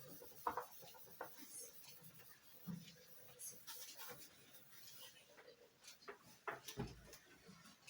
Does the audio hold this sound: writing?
yes